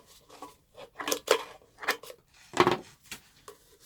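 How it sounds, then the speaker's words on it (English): Scissors snip carefully into a recycled cardboard Pringles tube, giving about six short crisp cutting crunches spaced irregularly, close to the microphone with quiet pauses between them. "what I'm going to do is just to go in there very carefully with some scissors"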